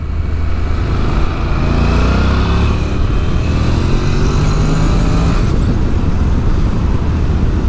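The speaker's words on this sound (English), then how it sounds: "the noise of the bike is coming through on the microphone, but it does sound quite gruff" A Honda NC750X motorcycle engine runs steadily while riding, a continuous gruff drone with wind noise, loud and close throughout with no speech.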